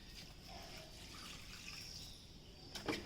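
Water from a bottle trickles softly onto potted plants, a faint, continuous dribble with a brief knock near the end.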